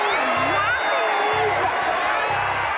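Studio audience on a game show cheering and whooping continuously, loud and close throughout, with a host's voice speaking over the crowd.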